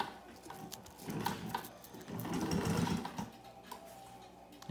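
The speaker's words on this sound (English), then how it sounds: "this is one of the final steps using our handy dandy old school sewing machine that can handle leather." An old-school sewing machine able to handle leather stitches pivot grips, a close, steady mechanical whir with fine ticking that swells and eases as the stitching goes on.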